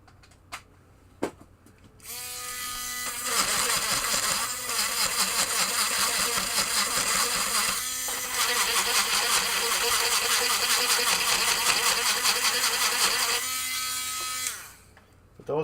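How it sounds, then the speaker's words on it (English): A vacuum hums steadily for roughly twelve seconds while it cleans the switch contacts of a Williams Travel Time pinball machine. Sharp clicks start and end it, and the suction pitch wavers as the nozzle moves. "we will buzz them up and then vacuum them out"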